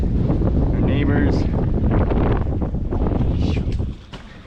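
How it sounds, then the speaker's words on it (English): Gusty wind buffets the microphone in a loud, rumbling roar on a boat near Flamenco Beach, with a voice speaking over it before the noise drops off at the end. "It's a little windy"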